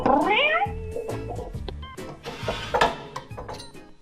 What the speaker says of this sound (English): Oh, you little sneaky kitty cat.